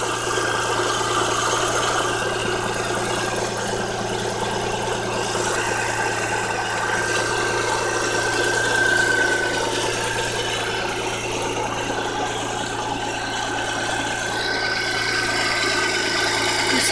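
A Geo Metro engine idles steadily with its belts spinning, a constant mid-pitched hum and light whine close by with no talking.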